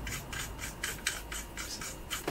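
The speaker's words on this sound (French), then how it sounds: "Alors, je vais visser" Parts of a camera mount in a workshop are screwed together, producing repeated short scraping and grinding rubs at an even rhythm, close and moderately quiet.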